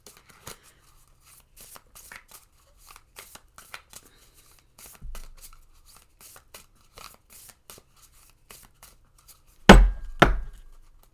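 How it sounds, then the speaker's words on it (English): Tarot cards are hand shuffled in quick, light riffling bursts of papery clicks, close up and fairly quiet, ending in two louder snapping shuffles near the end. "we're going to do some hand shuffling here"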